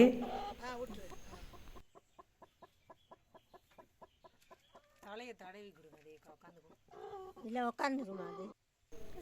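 A broody hen's low, rapid clucking in short, evenly spaced pulses, close by, with a person talking before and after.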